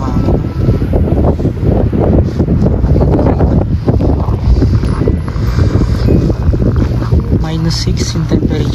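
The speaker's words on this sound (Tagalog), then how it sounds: "Grabe yung hangin." Strong winter wind buffets the microphone during a cold Canadian drive, roaring loudly and steadily in a broad rumbling wash throughout, with a low vehicle hum beneath it.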